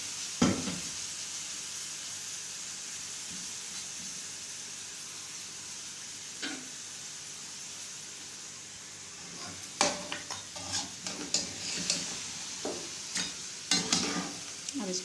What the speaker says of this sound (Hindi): अब बाकी इसके अंदर ये जाएंगे प्याज पाए, तो इसके साथ इसकी भुनाई हो जाएगी